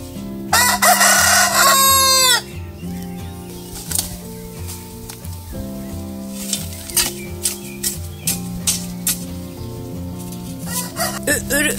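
A rooster lets out one loud, close crow near the start, followed by hens clucking in short, irregular bursts around a village garden, with some clatter in between.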